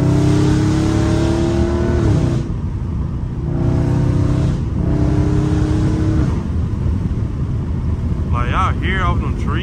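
Catless Dodge Scat Pack engine revving hard and loud while driving, rising and falling through the throttle with pops between pulls, with voices talking over it.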